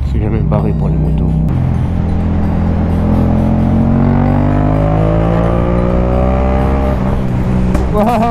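A motorcycle engine roars loud and close, its pitch sliding steadily downward as it loses power from running out of fuel, with a voice talking over it near the end.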